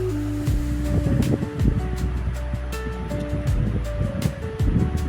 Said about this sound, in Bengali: এবার আমি পরিবেশনের জন্য একটা পাত্রে ঢেলে নেব তরকারিটা।